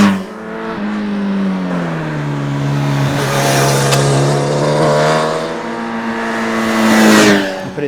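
Inline-four engine of a 2025 Honda CB1000 Hornet SP sport motorcycle revving hard, a loud, close, rising and falling race-like howl with a sharper edge as it climbs, running throughout with no talking.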